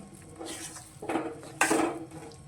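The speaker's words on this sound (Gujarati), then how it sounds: "હવે આપણે એમાં બધું મિક્સ કરી લેવાનું છે જ્યાં સુધી ગોળ મિક્સ ન થાય ત્યાં સુધી" A spoon working jaggery into a thick food mixture in a pot, giving a few soft scraping strokes and light clinks against the vessel, close and fairly quiet.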